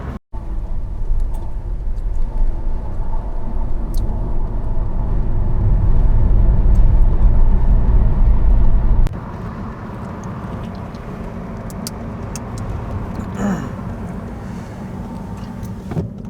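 A car climbing a mountain road toward Tawang, a steady engine drone and road rumble heard from inside, louder for the first nine seconds then dropping to a quieter hum, with faint clicks and rattles.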